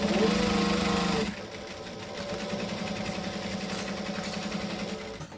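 A sewing machine stitches a camera bag at a 2.5 stitch length, a fast buzzing motor run that is loudest for the first second, then continues steadily and slightly softer without pause.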